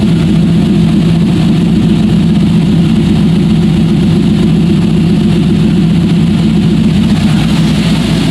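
An LS-swapped Porsche 944 running with its original muffler gives a steady, loud, deep engine rumble that holds an even idle throughout, with no voices.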